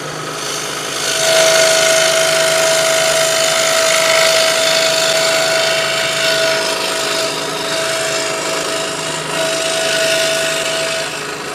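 A Dewalt 788 scroll saw cuts wood with a steady, close buzzing whine that runs on without a break and stays fairly loud, with no talking.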